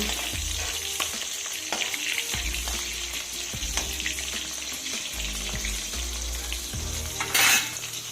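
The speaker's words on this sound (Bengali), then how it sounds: "মাছগুলোকে উল্টে দিয়েছি এবার ওই পিঠটাও ভেজে তুলে নেব" Tengra fish frying in hot oil in a pan after being flipped, a steady close sizzle with bursts of stirring and scraping, plus a sharp metallic clatter near the end; no one speaks.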